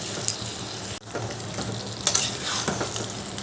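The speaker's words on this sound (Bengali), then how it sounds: "আলুগুলো দিয়ে আরেকটু যদি ভালো করে কষায় তাহলে আলুর ভেতরেও মশলাগুলো ঢুকবে" Potatoes stir-frying in spiced chicken curry masala in a pan, with a steady close sizzle and scraping stirs throughout, one brief dip near the start.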